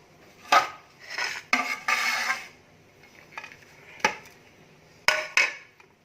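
An eggless walnut cake is flipped out of its pan onto a plate and its butter paper is peeled off. Close clattering knocks of pan, plate and utensils come in several separate bursts with quiet gaps between them.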